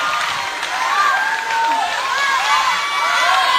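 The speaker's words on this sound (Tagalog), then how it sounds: "Nadinig mo yung sigawan ng tao sa'yo?" A crowd cheers and shouts for a young child dancer, many voices whooping and calling out at once in a loud, continuous, excited roar with scattered clapping.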